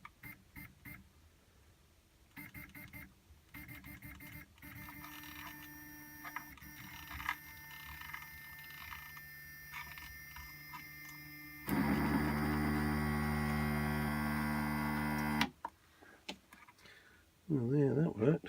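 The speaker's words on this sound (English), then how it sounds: "We'll take the knob to move the Z carriage up to the end." A Prusa MK2S 3D printer drives its left and right Z carriages upward: a steady, loud motor whine with strong harmonic tones holds for about four seconds mid-clip, preceded by quieter intermittent mechanical hums and beeps.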